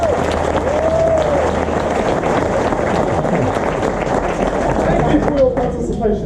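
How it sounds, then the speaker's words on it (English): A crowd applauds two chiefs at a Maori village welcoming ceremony, with dense, steady clapping and chatter that carries on under voices throughout. "please give your two chiefs one big round of applause."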